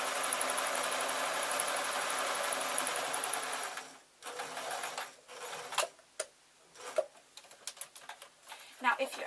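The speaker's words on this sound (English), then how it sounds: "So I'm just going to run the sewing machine down the outside" A sewing machine stitches the outside seam of a tote bag. A steady, busy mechanical whir runs for several seconds and then breaks into short, irregular bursts of stitching with brief pauses.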